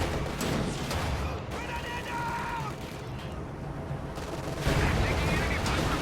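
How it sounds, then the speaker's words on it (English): Incendiary artillery support and gunfire in a World War II strategy game as a T-34 tank attacks an anti-tank gun, with dense overlapping booms, crackling shots and whistling shells layered under continuous battle noise. "T-34 going in with incendiary artillery support on the AT gun"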